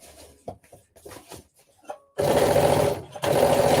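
A sewing machine stitches an interfaced waistband onto a dress bodice, starting with a few light clicks and taps before breaking into a loud, steady close whir, pausing briefly, then running again.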